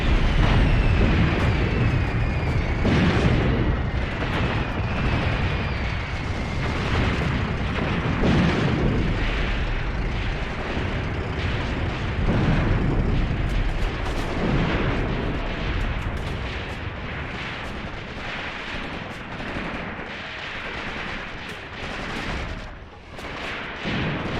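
Artillery shells bursting in the World War II tactics game Graviteam Tactics: Mius Front, a loud, dense and continuous barrage of deep booms and rumbling blasts overlapping one another without pause.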